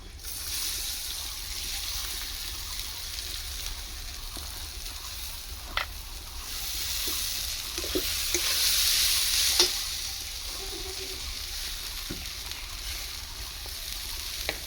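Rice for Bengali basanti polao fries in a pan with a steady, hissing sizzle and occasional stirring scrapes and clinks. It is close and even throughout, swelling slightly midway, with no talking.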